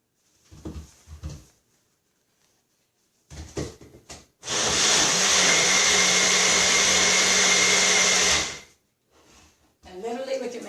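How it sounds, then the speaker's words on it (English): Magic Bullet blender whirs loudly for about four seconds while mixing coconut oil dog treat batter, a steady close motor roar framed by brief handling clatter, with a voice speaking just after. "to blend this just a little bit quicker, I found this morning, I used my magic bullet"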